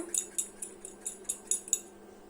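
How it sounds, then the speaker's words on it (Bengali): A knife chops peeled pointed gourd into fine pieces, giving about eight sharp, evenly spaced taps on a board at a quick steady pace, close and clear with no talking. "এখন আমি পটলটা পোস্তর জন্য এইভাবে করে কেটে নিব"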